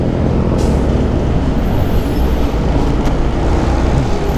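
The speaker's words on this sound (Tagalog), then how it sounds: "ang lala ng traffic dito." Heavy road traffic in Las Piñas, a loud steady rumble of engines and tyres close by, with a brief hiss of air brakes and no talk.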